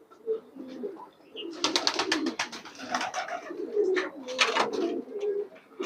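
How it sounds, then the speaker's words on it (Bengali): Pigeons in a crowded rooftop loft of more than a hundred birds coo in soft, overlapping bursts, close by and fairly loud, with a faint voice briefly in the background. "ছাদের কবুতরের খামারি বলা চলে, কারণ এখানে হিউজ পরিমাণ কবুতর আছে"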